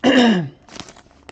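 One loud, harsh cough or throat-clearing burst lasts under half a second and is close and unvoiced. Fainter rustling and shuffling follow, with no speech.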